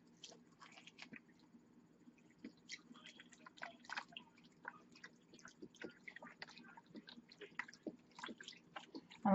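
Turkey drippings poured into cornbread dressing, heard as faint, scattered wet drips and soft squishy splashes, close and quiet, irregular throughout.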